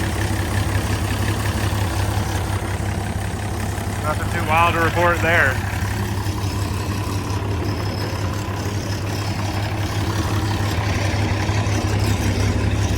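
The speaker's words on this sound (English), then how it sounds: "There you go, now it's idling. Sounds pretty good." A steady low engine idle rumbles throughout, with someone speaking briefly over it partway through.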